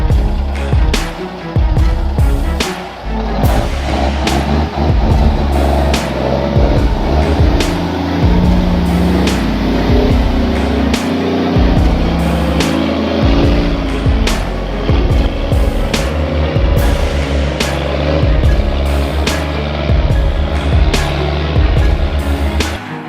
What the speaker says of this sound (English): This American truck is not only dealing with bad roads, but constantly facing obstacles in its path.